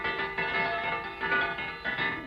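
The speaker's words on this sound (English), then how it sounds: "You got to tone that bell down." A supper bell rings at a Wild West hideout, its bright metallic tone sustaining with steady shimmering overtones and renewed strikes roughly every second, fairly loud and alone without talk.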